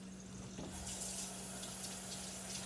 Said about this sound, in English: I'm just gonna rinse these off just a little bit because I want them a little bit wet.